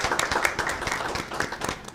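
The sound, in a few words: audience applause at a school board meeting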